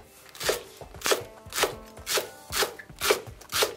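A knife roughly chops leeks for leek and potato soup on a cutting board close by, about seven even, rhythmic thuds with no talking.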